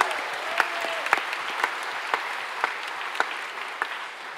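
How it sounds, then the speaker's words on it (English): Audience applause at a worship concert at the Keswick Convention, a dense, steady wash of many hands clapping in a large venue, evenly sustained with occasional sharper claps standing out. "Give Archie a round of applause."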